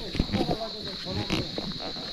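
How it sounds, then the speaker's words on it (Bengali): Crickets chirping all around a hillside footpath near Darjeeling, a steady high-pitched trill running under close speech and footsteps. "আর চারদিকে ঝিঝি পোকার ডাকটা শুধু শুনুন।"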